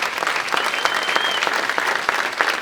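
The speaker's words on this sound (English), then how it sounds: "Let's give him a round of applause." Loud, sustained applause from an audience at an awards luncheon fills the room evenly, with a faint whistle rising briefly through the clapping.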